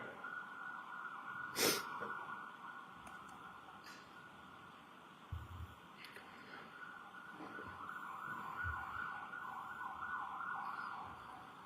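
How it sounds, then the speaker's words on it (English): A siren wails faintly in the distance, holding a steady tone as it passes, over a low background hum with a few small knocks. "Got a siren going by, sir."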